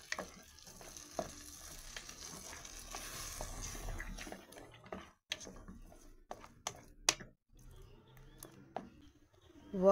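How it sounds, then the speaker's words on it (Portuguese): Homemade stroganoff with cream simmering in a pan, a quiet bubbling fry broken by scattered spoon scrapes and clicks as it is stirred, with no talking. "Vou mexer mais um pouquinho meu estrogonofe."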